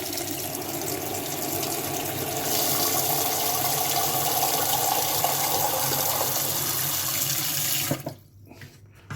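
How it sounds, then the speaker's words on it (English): Tap water runs steadily into a pot fitted with a potato steamer, a constant splashing hiss that briefly grows fuller before the tap is shut off near the end. "So you run some water in."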